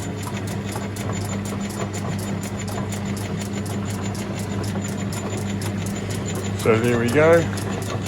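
A Logan 210 metal lathe runs steadily with a constant low mechanical hum and fine rhythmic ticking from its belt drive, close by, and a brief voice speaks near the end.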